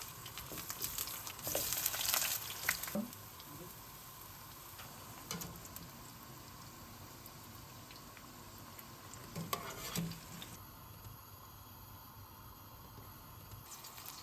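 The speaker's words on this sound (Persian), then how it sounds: "بعد از اون بادمجونا رو سرخ میکنیم." Eggplant frying in oil in a pan while cooking maqluba, a low steady sizzle with occasional louder crackling bursts and stirring noises, no voices.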